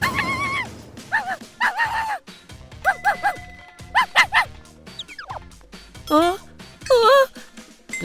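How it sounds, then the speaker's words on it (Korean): Small dog Akane barking and yipping in repeated bursts, some high whining yelps, close to the microphone, with people talking around it. "아카네가 왜 이렇게 짖어?"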